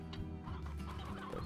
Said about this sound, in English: Oh, you guys got a rooster.